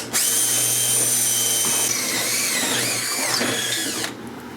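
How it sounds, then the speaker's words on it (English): A power drill bores a hole in metal on a 2006 Club Car DS 48-volt electric golf cart, its steady whine loud and close for about four seconds before winding down. "Drill bit's a little weak."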